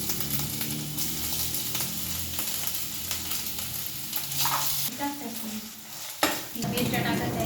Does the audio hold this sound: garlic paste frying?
yes